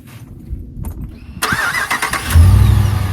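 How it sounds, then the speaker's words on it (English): A truck engine cranks briefly after a quiet moment, then catches and settles into a steady low idle rumble, close and fairly loud. "So you can see the truck still starts perfectly fine"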